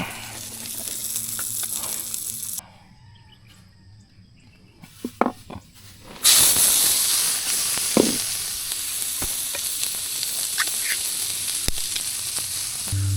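Corned beef and onions sizzling in a pan, a steady loud frying hiss that drops away briefly, then returns strongly with a few clinks and stirring sounds, no talking.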